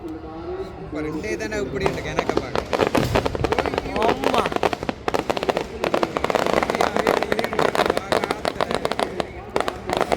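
Fireworks and firecrackers going off at a crowded night temple festival in Mathagal, Jaffna, a dense rapid crackling barrage of loud bursts with people talking and shouting over it.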